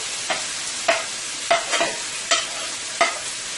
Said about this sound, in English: I'm going to add the onions, and I'm going to let this saute for about 2 to 3 minutes into the oil